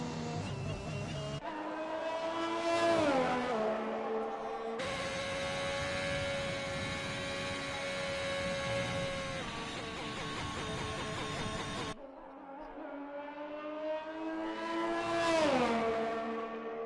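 Formula 1 car engines in an F1 racing video game at Spa, high-pitched whines rising and falling as cars pass, one long sustained run in the middle, loud and close with no talk.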